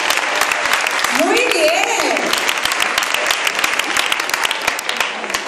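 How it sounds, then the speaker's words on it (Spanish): Festival crowd clapping at the La Purísima fiestas in El Palmar, dense rhythmic applause running throughout under a loud voice talking, with a short musical tone rising and falling in the middle. "Un aplauso para mi chico."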